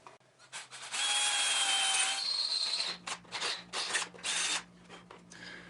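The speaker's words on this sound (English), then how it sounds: "I'm going to need to drill a new hole on both sides of the plate" A drill bores new holes through the metal seat plate of a lawn mower, starting with a sustained whine, then breaking into short grinding bursts with brief pauses, loud and close.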